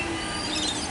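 A Melbourne suburban train runs through Tooronga station, a loud, close rolling rumble with high squealing wheel tones rising over it.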